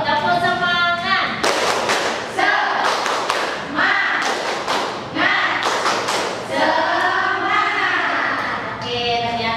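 A classroom of students perform a rhythmic spirit clap in a teacher-led class, sharp percussive claps and thuds in a patterned sequence, with children's voices chanting along loudly throughout.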